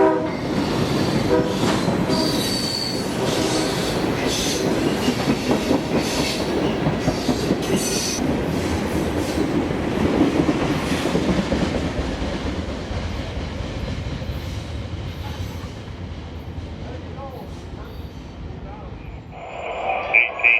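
Southbound freight train Q613, hauling molten sulfur tanks and empty hoppers, rolls past with loud rumbling and clacking wheels and a horn blast, the roar fading toward the end.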